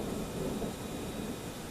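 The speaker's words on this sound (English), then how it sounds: "there was just some thunder," Low, steady rumble of thunder rolling in the distance ahead of an approaching storm, a broad continuous roar with no voices over it.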